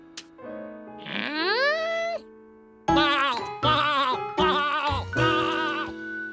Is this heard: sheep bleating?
yes